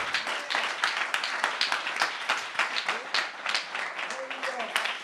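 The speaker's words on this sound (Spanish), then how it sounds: "un aplauso fuerte para el Señor" A church congregation claps in praise during a Spanish-language service, a dense, steady round of applause with rhythmic bursts that carries on for several seconds, a voice faintly audible beneath.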